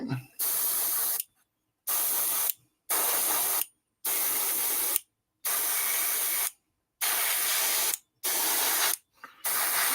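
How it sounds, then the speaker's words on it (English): An airbrush sprays in repeated bursts of about a second each, broad close hiss broken by short silent gaps in an uneven rhythm. "It is so nice just having my airbrush just ready to roll, man."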